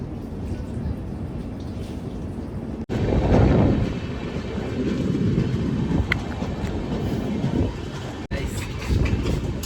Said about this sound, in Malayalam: ട്രെയിൻ വീണ്ടും യാത്ര തുടർന്നിരിക്കുന്നു.